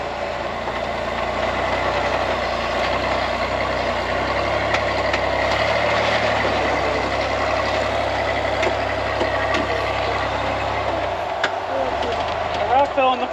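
A 4x4 rock crawler backs up over a rock ledge on a Colorado crawling trail, its engine idling and rumbling low and steady throughout, with faint knocks and scrapes from the rocks and some talk underneath.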